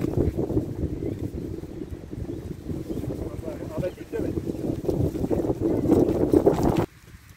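Steady wind rumbling and buffeting against the microphone on a 9-hole golf course, loud and continuous, with a voice talking under it until it drops away near the end.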